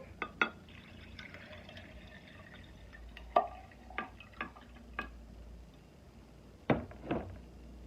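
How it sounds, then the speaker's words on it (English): Water poured into a blender jar already loaded with ice cubes for a mango smoothie: a soft, steady trickle under a series of sharp, separate clinks and knocks spread across the pour. "And I'll pour in my water."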